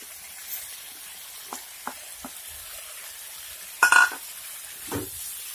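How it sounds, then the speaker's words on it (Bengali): Fried cauliflower and potato tipped into a pan of vegetables, with a few soft scrapes and taps of stirring, a louder clatter of food landing, and a faint sizzle in a quiet kitchen. "এখন ভেজে রাখা ফুলকপি আর আলুটিকে দিয়ে দেব।"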